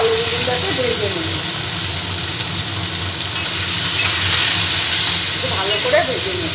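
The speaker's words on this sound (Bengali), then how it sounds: "একটু নুন আর হলুদ দিয়ে আলু বেগুনটাকে ভেজে নেব" Thin-cut potato and eggplant sprinkled with salt and turmeric fry in hot oil, giving a loud continuous sizzle and hiss. A voice speaks faintly at the start and again near the end.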